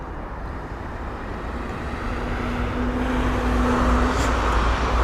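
A British Airways Airbus A320-200, about 20 years old and arriving from Glasgow, lands at London Heathrow. The jet roar is distant and steady, swelling gradually louder over a few seconds, with a faint tonal whine underneath.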